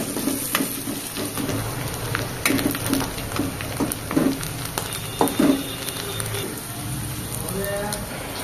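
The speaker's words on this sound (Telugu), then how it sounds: "అప్పుడు దాంతో ఫ్రై చేయాలి." Cabbage and chicken shawarma filling frying in oil in a home kitchen, a steady close sizzle with scattered crackles and stirring clatter running throughout, with a voice talking over it.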